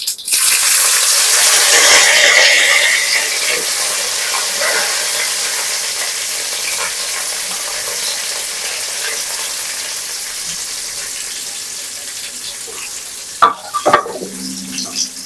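Curry leaves and green chilies frying in hot oil in a pan for fish puttu, a loud burst of sizzling that settles into a steady hiss, with a few clanks of stirring near the end.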